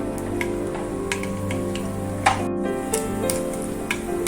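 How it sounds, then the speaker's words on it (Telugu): Sparse, sharp pops and crackles of mustard seeds spluttering in hot oil, scattered irregularly over a steady low hum. "ఆవాలు వేసుకుందాం ఆవాలు బాగా పెట్టలాడాలి"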